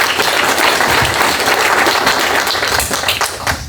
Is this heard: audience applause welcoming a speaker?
yes